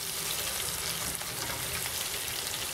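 Minced meat seasoned with turmeric frying in a pan, a steady close hiss and sizzle with fine crackles throughout, no talking.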